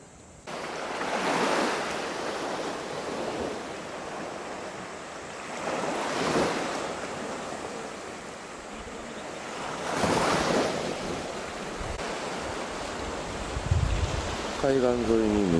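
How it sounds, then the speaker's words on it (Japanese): Surf rolls onto a beach at a Japanese seaside bathing area in the morning, breaking in slow surges every few seconds under steady wind noise on the microphone, with no speech. "じゃあ海水浴場。"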